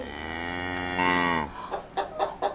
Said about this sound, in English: Yes, I think you might be right. It's a cow.